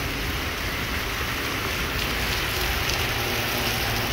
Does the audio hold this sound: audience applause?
no